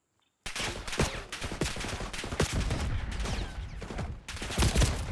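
Rifle fire in Call of Duty Black Ops 6, loud and close, coming in short repeated bursts of a few rounds separated by brief pauses after a moment of silence.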